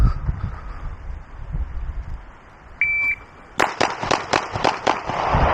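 Pistol shots in a timed shooting drill, a timer beep followed by a quick string of about six sharp, loud cracks in rapid rhythm outdoors, with wind noise before the string.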